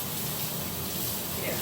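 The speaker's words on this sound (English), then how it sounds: "I'll rinse off my big palette, my big offset spatula." Tap water runs steadily while a large palette and big offset spatula are rinsed, a continuous broadband gush at moderate level with no talk over it.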